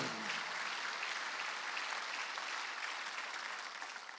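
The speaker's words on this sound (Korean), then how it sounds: "박수 한번 해주세요" A church congregation at a Wednesday worship service applauds, a faint, distant wash of steady clapping that thins out slightly near the end.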